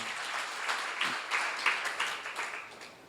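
A congregation claps at a church seminar: a fairly quiet, steady patter of many hands lasting a few seconds, with a few louder bursts, heard alone without speech.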